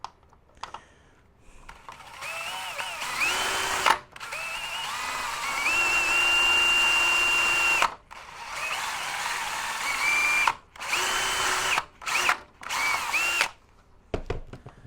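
Power drill boring a roughly 6mm hole in a part for an HPI Racing Venture model build, with several sustained whirring runs that rise and fall in pitch, broken by short pauses and stop-start bursts near the end.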